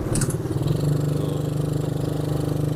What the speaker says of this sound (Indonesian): knalpot racing di bagian belakang. Jadi terdengar agak sedikit ngebas saat kalian mengendarai ATV Jeep 125 cc ini.